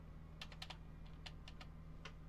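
Typing on a computer keyboard: a few quick, light key clicks in short irregular bursts over a low steady hum, close and soft, with no talking.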